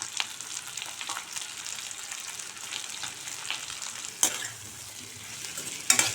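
Potato masala dry-roasting in a pan, a soft, steady sizzle under repeated stirring with a spoon scraping the pan and two sharp metallic clinks near the end, fairly quiet and with no speech.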